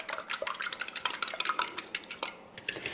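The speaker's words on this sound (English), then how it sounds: "I'm just going to whisk them up a little bit with this fork." A fork whisks eggs in a big bowl, a quick, uneven run of light metallic clinks and taps against the bowl, close and fairly loud, with no voices.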